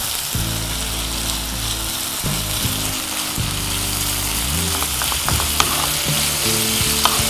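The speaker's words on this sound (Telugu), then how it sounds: "ఇప్పుడు మంటను కొంచెం పెంచుకోవచ్చు, ఎందుకంటే కీమా కాస్త ఫ్రై అవ్వాలి కాబట్టి." Minced meat keema fries loudly in a pan while being spread out, with a dense constant sizzle under a low steady hum and a few sharp utensil clicks toward the end.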